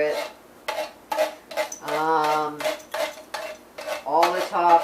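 A utensil scrapes and taps against a baking pan while dump cake topping is spread, in repeated short strokes, with a voice humming and talking over it.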